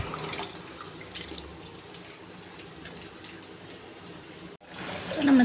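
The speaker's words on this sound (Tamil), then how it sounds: "புளி எடுத்து நல்லா அதை கரைச்சி எடுத்துக்கிட்டு" Water being worked by hand to dissolve tamarind for a Tamil fish curry, a soft continuous sloshing and trickling with occasional drips and a louder splash at the end, close by and with no talking.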